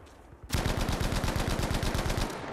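A Bren light machine gun in Battlefield V fires one steady, rapid sustained burst of about two seconds, loud and close, with no talking.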